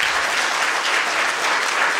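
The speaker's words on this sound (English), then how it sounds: "Well, let's give them a round of applause." An audience at a cloud technology conference applauds OpenStack developers, dense steady clapping from a full room sustained at even loudness for a couple of seconds.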